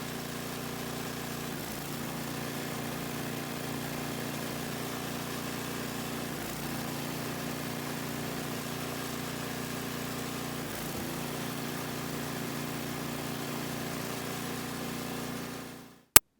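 A snowblower engine runs steadily for about fifteen seconds during a test run after a drive belt repair, giving a continuous mid-pitched drone that holds its level and then cuts off abruptly near the end, with no talking.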